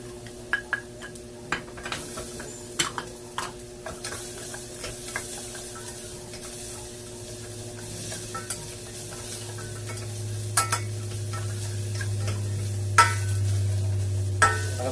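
Garlic sizzles steadily in a pan with a soft frying hiss, while a utensil scrapes and knocks against the pan in scattered sharp ticks, close and moderately loud, with no talking.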